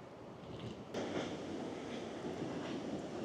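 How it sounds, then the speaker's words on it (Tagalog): Strong surf breaks on a wintertime Australian beach, a steady wash of roaring water with a heavier surge about a second in, mixed with wind buffeting the microphone, no voices. "Malakas ang alon."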